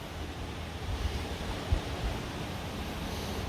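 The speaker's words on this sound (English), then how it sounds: "Water's flowing pretty good." A little shallow creek in southwest Missouri flows steadily, giving a soft, continuous rushing wash with faint wind noise and a brief low thump partway through, with no talking.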